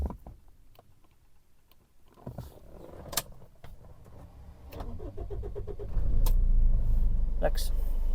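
A car engine is started from inside the vehicle in hot Australian weather: quiet clicks and cranking build until the engine catches and settles into a steady low idle, with a voice speaking early on.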